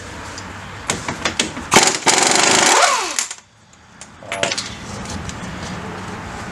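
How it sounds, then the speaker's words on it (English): An impact wrench or air tool rattles in short bursts and then a sustained run as a 1 1/16 inch socket works the axle nut loose on a Yamaha Grizzly ATV, with metallic clinks between bursts. "you're going to need a 1 1/16 inch socket to take the axle nut off"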